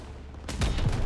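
A short burst of Call of Duty WWII gunfire, several rapid close shots cracking over a low battlefield rumble, with no talk.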